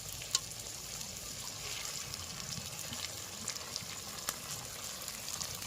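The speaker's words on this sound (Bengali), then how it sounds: "এটা কিছুক্ষণ ভেজে নেবো।" Melon seeds and cashew paste fry steadily in a pan with a soft, continuous sizzle and occasional faint clicks of stirring, no talking.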